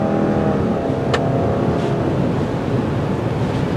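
Steady road and engine drone from a 2022 Subaru Outback Wilderness with its boxer engine, heard from inside while driving on a windy day, a continuous loud rumble with one brief click.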